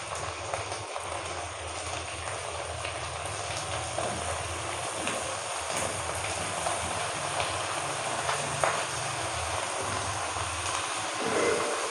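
One kilo of mutton, added to golden-brown onions for a restaurant-style korma, sizzles with a continuous low hiss and crackle for about twelve seconds, with occasional clinks and no speech.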